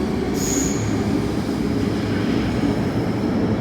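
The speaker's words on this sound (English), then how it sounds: "And this train will go right now for the other direction track." A metro train passes on the tracks at Po Lam Station in Hong Kong, a close, continuous rumble of wheels on rail with a brief high squeal near the start.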